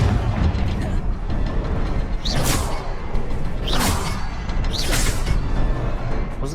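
Confringo blasting-curse explosions in Hogwarts Legacy, three bright whooshing bursts about every 1.3 seconds over a dense, continuous rumbling game soundscape.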